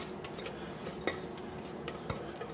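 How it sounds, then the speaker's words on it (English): Sourdough starter scraped from a mixing bowl into a jar with a utensil, giving close, soft scraping and rubbing strokes with a few light clinks, no talk. "we're going to just scrape this into our jar, just like so."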